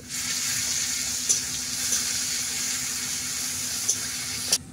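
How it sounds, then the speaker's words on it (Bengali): Chopped onions fry in a pan in a village kitchen, giving off a steady, bright sizzle with a few sharp clicks of utensils as garlic is added. No one talks. "পেঁয়াজ আমার ভাজা হয়ে গেছে, এবারে আমি রসুনটা দিয়ে দেব।"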